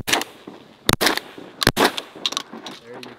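Shotgun blasts fired at a goose during a hunt on a river, two sharp loud reports about a second apart amid excited shouting from the hunters.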